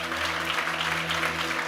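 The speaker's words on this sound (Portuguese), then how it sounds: "Você pode aplaudir? Aplaude ele aqui" An auditorium audience applauding in a dense, continuous wash of clapping, with a steady hum underneath.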